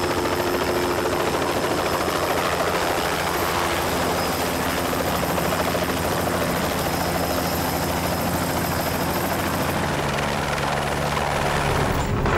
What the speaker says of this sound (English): the choppers are flying